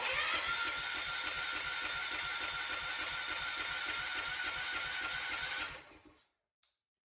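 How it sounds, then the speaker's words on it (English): A Kohler K341 engine on a John Deere 300 garden tractor is cranked over by its starter without fuel, a rapid rhythmic churning that runs steadily for several seconds and then stops abruptly, followed by a brief click. "I'm gonna turn over the engine just a couple times so the oil can splash around inside for the initial startup"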